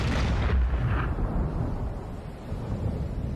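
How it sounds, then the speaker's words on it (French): A grenade blows up in the video game No More Heroes, a heavy, deep boom that hits at once and then rumbles and fades over a few seconds, with no voices. "Puis elle a dégoupillé une grenade."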